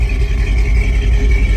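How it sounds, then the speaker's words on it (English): A 1957 Chevrolet 210 with Bel Air trim and a 350 four-barrel V8 idles through dual exhaust, a loud, steady, low rumble close by with no talking. "Dual exhaust sounds awesome."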